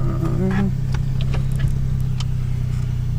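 A car's engine drones steadily and loud throughout while the vehicle spins on snow, with faint bits of other sound over the continuous low rumble.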